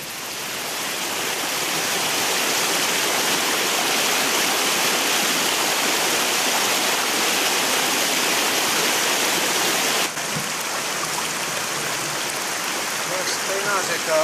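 A river flows outdoors in Vermont, a steady, broad rushing wash of water that holds constant throughout, close and fairly loud, with a brief dip partway through and no clear talking.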